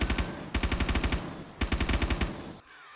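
Three rapid bursts of P90 submachine gun fire in the survival game 7 Days To Die, each a loud, tight stream of shots separated by short pauses, ending in quiet.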